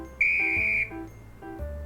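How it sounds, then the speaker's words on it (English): A referee's whistle shrills in a visual novel game, one sustained piercing blast of under a second over a low background hum and crowd murmur. "The referee blows the whistle"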